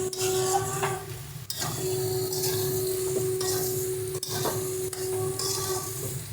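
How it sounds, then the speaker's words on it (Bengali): Jackfruit being stirred into a spice masala in a pan, with a scraping, sizzling rasp in repeated strokes and a steady faint tone underneath. "এঁচোড়টা দিয়ে ভালো করে কিন্তু মশলার সঙ্গে আমরা মিশিয়ে নেব এটাকে"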